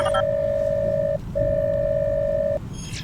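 A steady electronic phone call tone in a video game sounds twice, each a long pure beep of about a second with a short gap between, clear and alone with faint background hum.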